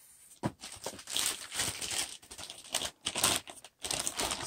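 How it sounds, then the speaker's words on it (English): Protective plastic film being peeled off a new Lenovo Flex 5 14-inch laptop, a close crackling and crinkling with short tearing bursts and brief pauses, no voices. "Take off these protectors."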